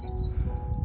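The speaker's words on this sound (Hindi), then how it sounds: "पंछियों की आवाज़, मधुर आवाज़ यहाँ सुनने को मिलती है" Birds chirp on a mountain morning beside a small garden home. Clear, bright tweets and short descending calls repeat over a low outdoor background.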